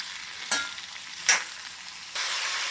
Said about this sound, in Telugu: టమాటాలు వేసుకొని బాగా కలుపుకుందామండి